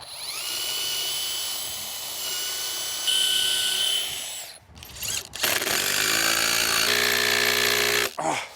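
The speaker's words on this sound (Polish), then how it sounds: "Nawiercamy i wkręcamy." A power drill drills pilot holes and drives wood screws into timber for a hammock stand frame, with loud whining motor bursts that rise and stop, a short pause near the middle, then another sustained run.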